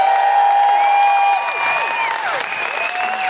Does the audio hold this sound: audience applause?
yes